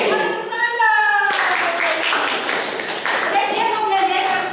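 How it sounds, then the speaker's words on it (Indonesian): Schoolchildren in a classroom clap their hands together: a burst of loud, rapid, overlapping clapping follows a brief spoken cue, with children's voices mixed in near the end. "Boleh tepuk tangan dong."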